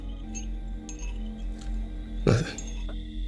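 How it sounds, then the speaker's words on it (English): A spoon taps against a glass in the film Get Out, faint, sparse clinks over a low room hum, with one louder, sharper strike partway through. "as the mother continues to question Chris, she continues to tap on her glass, which actually starts to hypnotize him"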